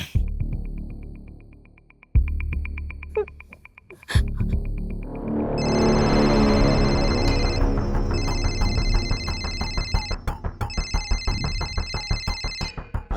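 Telephone ringing in a house in a TV crime drama: after a few abrupt dramatic sound hits, an electronic ringtone starts and repeats in steady pulsing bursts, fairly loud, with no talking.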